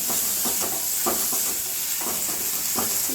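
Boiled mashed potatoes being stirred into hot spiced vada pav filling in a pan, repeated scraping strokes over a constant sizzling hiss, close and moderately loud.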